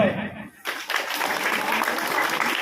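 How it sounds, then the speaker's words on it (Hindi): A group clapping in response to a prompt at a Dr Ambedkar Jayanti gathering, a dense burst of claps starting after a brief pause and continuing steadily, with voices mixed in. "ताली मार"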